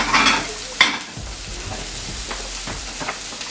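Sausages and onions fry in a pan, opening with a loud hiss and a sharp clatter, then settling into a steady sizzle with stirring scrapes and soft knocks.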